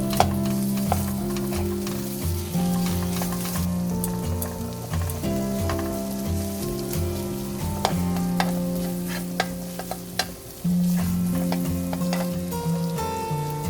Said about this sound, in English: add sliced onion and bacon. Stir fry for 2 minutes.